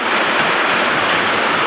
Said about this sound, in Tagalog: Ayan guys, biglang bagsak ng ulan guys.